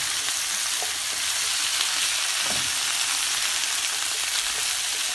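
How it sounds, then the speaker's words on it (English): Zucchini and mushrooms sauté in a pan with a steady, even sizzle and some soft stirring scrapes. No one speaks. "Just give it a good stir."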